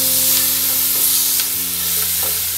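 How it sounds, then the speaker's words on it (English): Spices roasting in a hot pan with a loud, continuous sizzle and a few soft stirring scrapes, close up. "You may want to reduce the heat while you are roasting the spices"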